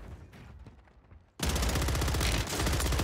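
After a quieter opening of faint scattered shots, a submachine gun in Warzone 3 opens up loud and close, firing a dense continuous rattle through the rest of the clip.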